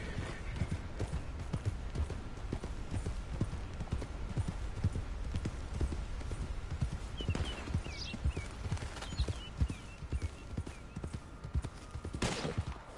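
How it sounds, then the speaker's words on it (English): Steady clip-clop of horse hooves from Red Dead Redemption II, a continuous trotting rhythm close by, with a couple of brief sharp bursts near the end and faint outdoor ambience. "Whoa, what happened to that horse?"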